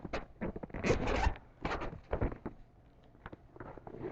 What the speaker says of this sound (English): So we're going to unzip the golf bag here.